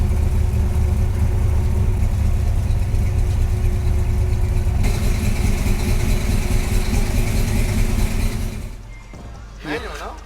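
A 1964 Mercury Comet drag car with a stroked 393ci engine and automatic transmission runs loud and steady on a dyno for about nine seconds before the roar drops away to a quieter tail.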